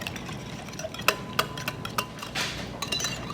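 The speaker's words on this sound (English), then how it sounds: "And then you just want to whisk that all together." Sour cream enchilada sauce is whisked together in a bowl, giving light clinks and ticks against the side, then a brief swishing stir, close and fairly quiet with no voices.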